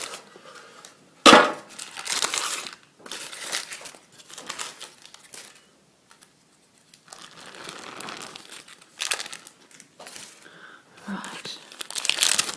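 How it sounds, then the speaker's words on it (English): A sheet of baking paper is crinkled and handled in bursts of crisp rustling, with a sharp crackle near the start and scattered quieter handling in between. "I've got a sheet of baking paper."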